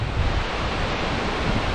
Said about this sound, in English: And it's always super windy.